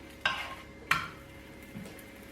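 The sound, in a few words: Madakku san being flipped and frying in a pan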